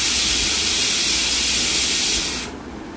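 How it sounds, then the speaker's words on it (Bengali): Steam hisses loudly and steadily from a pressure cooker with its lid closed on okra for bhindi masala, a continuous close spray that drops away abruptly near the end. "এবার আমি ঢাকনাটা বন্ধ করে 3 থেকে 4টে সিটির জন্য আমি অপেক্ষা করব"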